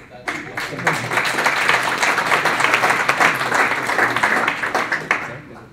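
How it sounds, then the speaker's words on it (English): A small office audience gives its team a brief round of applause during a business meeting, with dense clapping close by that runs steadily for several seconds, then trails off, and with voices mixed in. "Can we give our team a little round of applause?"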